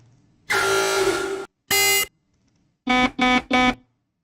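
Alarm sound effects played in turn: a long steady buzzing tone, a short harsh blast, then three quick identical beeping bursts in a row, loud and clear with no talk.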